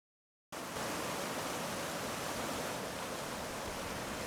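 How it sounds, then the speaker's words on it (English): Steady broadband rush of a stream or river flowing, dense and continuous after a brief silent start, close and even with no pauses or voices. "In particular, the water of a stream or river, flowing infinitely, never stopping or slowing down."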